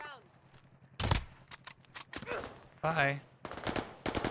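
Bursts of automatic rifle fire from an XM4 in a Call of Duty match on Rebirth Island, several short volleys spread across the clip and mixed in with people talking.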